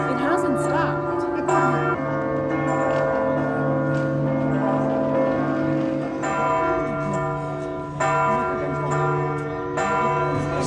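Church bells ringing continuously near a hotel in Malta, a dense steady clang of overlapping tones that keeps going without pause, with faint voices underneath.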